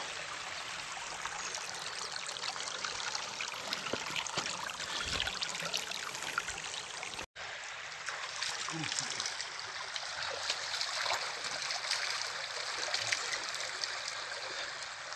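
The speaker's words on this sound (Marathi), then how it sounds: "सध्या उन्हाळ्यामध्ये तर पाणी कमी असल्यामुळे नदीचा प्रवाह खूप कमी आहे" A small river at low summer flow trickles and babbles steadily, a soft continuous wash of water close by with no talk over it.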